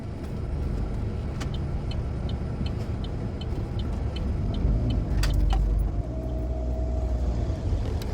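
Garbage truck collecting trash on a street at night, a steady heavy engine rumble with repeated light metallic clinks and a brief louder clank and squeal partway through.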